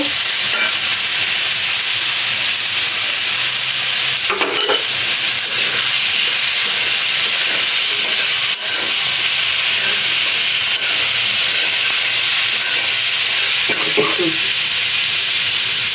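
Chopped carrots stir-fried in a pan in a village Bangla kitchen, a steady broadband sizzle and hiss running throughout with occasional stirring scrapes, close and fairly loud, no talking.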